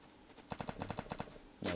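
Burst of rapid gunfire in the mobile battle game Free Fire, about a dozen evenly spaced shots over roughly a second, moderately loud, followed by a brief louder effect.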